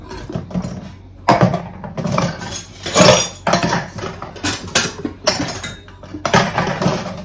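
Dishes and cutlery being washed by hand in a home kitchen, with a steady run of close, bright clinks and clatters as plates and utensils knock together, and no talking.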